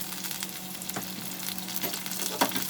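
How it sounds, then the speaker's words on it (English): Dry fruits fry in a tablespoon of hot ghee for halwa, giving a continuous crackling sizzle with occasional stirring scrapes and clicks, close and moderately loud, with no voices. "I'll first fry these dry fruits"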